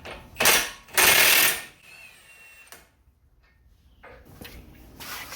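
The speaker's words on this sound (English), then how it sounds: "now that we have successfully removed both front wheels, we will remove the axle nuts" Axle nuts being loosened with a wrench on a Honda Civic, two loud bursts of metallic ratcheting and clanking up close, then quieter scraping and a few later clicks and rustles.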